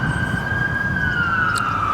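An ambulance siren passes close by as one loud, sustained wail whose pitch slowly drifts downward, over a steady low rumble of traffic.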